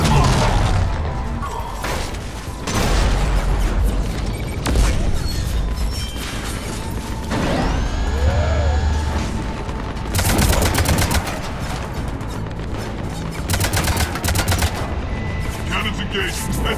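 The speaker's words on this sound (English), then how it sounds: "Cannons initializing." Spaceship cannons firing in Mass Effect 3 during a battle on Omega, loud repeated bursts of gunfire and booming blasts with mechanical whirs and sweeping tones between them, mixed with occasional speech.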